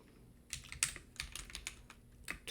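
Quick bursts of typing on a computer keyboard as a text prompt is entered into an AI assistant, crisp close key clicks in uneven clusters with short pauses, no voices.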